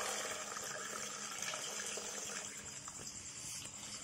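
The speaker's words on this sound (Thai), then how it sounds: "เราก็จะเทน้ำใส" Water poured over mangoes for pickling, a steady broadband splashing and gushing that runs fairly evenly throughout, close and moderately quiet, with no talking.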